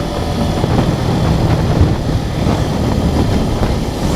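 A Suzuki Gixxer SF motorcycle engine running at moderate revs while riding on a straight road, a steady broadband drone mixed with wind rush, loud and close throughout.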